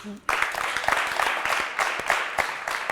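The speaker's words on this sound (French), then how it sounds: "Applaudissez pour vous" Audience applause for a reading club group at a televised talk event, a crowd clapping steadily and fairly close after a brief quiet start, with no voices over it.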